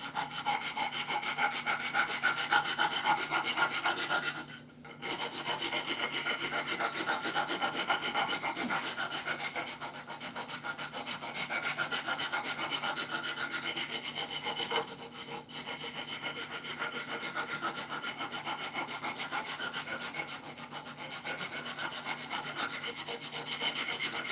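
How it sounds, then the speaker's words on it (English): Wood being filed by hand on a handmade guitar body, a continuous rasping scrape in quick even strokes, close and steady with a few brief pauses, no voices. "you just keep filing away, filing away, filing away"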